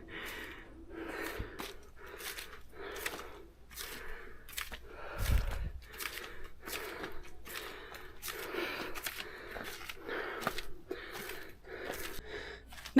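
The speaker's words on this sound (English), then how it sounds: "Excuse my middle-aged breathing." Heavy, rhythmic breathing comes after climbing a long flight of stairs in rural Thailand. Each gasping inhale and exhale is close and fairly quiet, repeating steadily for about a dozen breaths with no talk.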